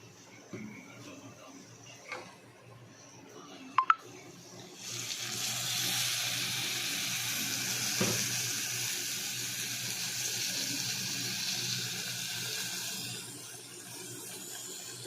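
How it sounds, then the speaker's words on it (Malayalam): Tamarind water strained into a hot pan of sautéed chili and ginger: a few faint knocks first, then a steady, loud sizzling hiss that holds for several seconds before slowly easing. "അതിലേക്ക് നമുക്കൊന്ന് പിഴിഞ്ഞിട്ട് അരിച്ചൊഴിക്കാം"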